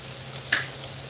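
Carrot and chayote sautéing in a pan for a home dinner, giving a steady soft sizzle throughout with a single brief clink near the middle, close and fairly quiet with no talking.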